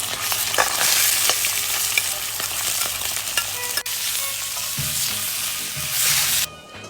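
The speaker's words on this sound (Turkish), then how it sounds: "Doğramış olduğumuz parça etimizi kavurup suyunu çektireceğiz." Diced meat sizzles loudly in hot oil while being stirred for haşu rice, a dense crackling hiss with occasional scraping, close up and without speech.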